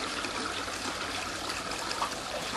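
Water trickling steadily from the inlet of a four-metre aquaponics grow bed, a soft continuous dribble and splash, close and unbroken, with no voices.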